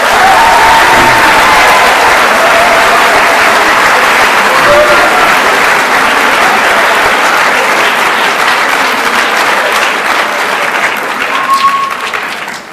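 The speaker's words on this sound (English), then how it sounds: "Give yourself a round of applause." A large audience in a high school auditorium at a Veterans Day assembly applauds loudly and steadily for over ten seconds, with crowd noise mixed in. The clapping thins slightly toward the end.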